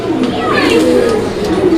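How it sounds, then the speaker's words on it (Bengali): A pigeon at a market, a large crested bird, gives a low, rolling cooing call close by, with a voice talking over it. "দেখেন কবুতরের ডাকটা"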